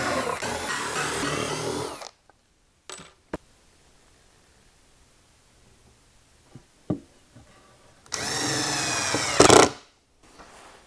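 Power tool bursts drive screws into a wooden workbench frame, two loud whirring runs at the start and end of the stretch with a quiet gap between them broken by a few sharp knocks.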